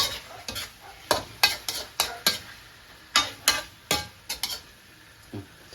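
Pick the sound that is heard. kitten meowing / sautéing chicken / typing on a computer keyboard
sautéing chicken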